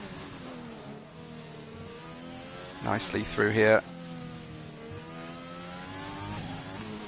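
In a racing video game, a race car's engine revs sharply in a loud, brief burst of rising throttle, heard under steady commentary from a man describing the action.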